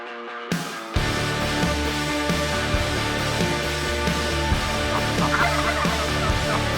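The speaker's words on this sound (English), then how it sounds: "We've got a bird or two gobbling back down this way." Merriam's wild turkeys gobbling on a Wyoming mountain during a spring hunt, a bird or two calling from down the slope, with repeated rattling gobbles fairly loud over steady background.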